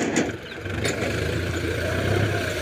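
A tractor engine runs in a sugarcane field, a steady mid-pitched rumble with a slight rise toward the end, heard close against open outdoor background noise.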